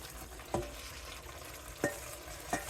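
Vegetables stirred into a pot of cooked cowpeas and tomatoes, giving a faint, low sizzle broken by three soft spoon scrapes or knocks against the pot.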